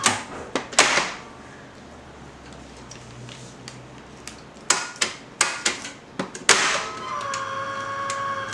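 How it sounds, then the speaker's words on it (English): A Hyundai HGN16 air circuit breaker being tripped by hand during testing: faint mechanical ticks and clicks, then a cluster of sharp snaps and a loud clack, followed by a quiet electrical hum. "At first, we trip the ACB manually."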